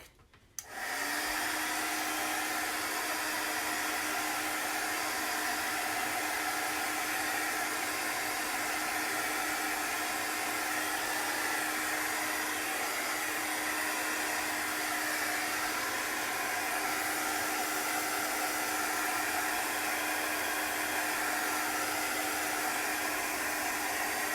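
A hair dryer dries wet chalk paste on a sign: a steady, loud, broadband whoosh that starts abruptly and keeps running unchanged for over twenty seconds with no talking.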